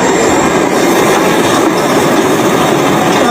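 Train passing at a station entrance, a loud, steady rushing roar with rail rumble and faint high squeal filling the whole stretch, close and unbroken, no voices.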